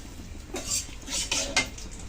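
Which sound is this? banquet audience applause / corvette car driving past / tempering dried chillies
tempering dried chillies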